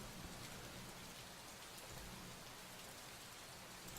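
Rain falls steadily in a city in the video game Gemini Rue, a dense, even hiss of drops with no break and no voices.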